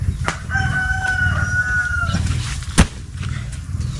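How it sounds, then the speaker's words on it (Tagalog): A rooster crows once, loud and fairly near, with a long drawn-out call, followed by a sharp knock and faint farmyard background. "Manok."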